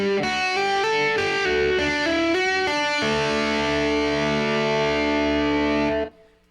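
An electric guitar plays the tapping verse of a song with hammer-ons and pull-offs through a distorted, effected tone. Quick stepping notes give way to a sustained ringing passage that cuts off abruptly, with no voices.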